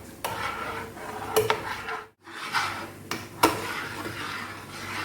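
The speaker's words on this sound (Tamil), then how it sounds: "லேசான அனலில் வச்சு நம்ம கிண்டிக்கிட்டே இருக்கணும்" Spoon scraping and knocking against a pot while thick urad dal porridge is stirred over a low flame, with irregular clinks and soft scrapes, close and moderately quiet.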